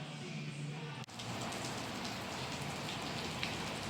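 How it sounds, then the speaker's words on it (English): Steady rain pours down on a wet outdoor surface, a dense even hiss that fills the clip, broken only by a brief dip near the start. "As you can see, it's raining."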